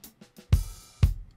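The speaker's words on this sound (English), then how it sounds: "I know that there's a snare called Nashville Snare, which has a little bit of thickness to it." Nashville snare drum sample with rim, mixing dry and room sound, two loud punchy hits about half a second apart with a ringing tail, preceded by a few faint soft taps.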